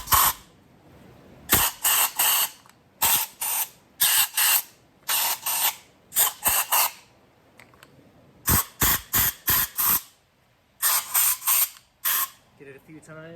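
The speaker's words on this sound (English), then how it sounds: "I get my compressed air and I blow these guys out towards the filters" Compressed air gun blowing powder out of powder coating booth filters in sharp, loud bursts, some short and some longer, separated by brief pauses, close by.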